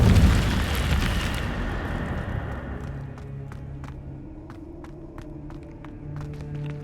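An Incendio fire spell is cast in Hogwarts Legacy, bursting out in a loud, broad whoosh and roar. It fades into a lingering crackling rumble, with scattered light taps like footsteps through the tail.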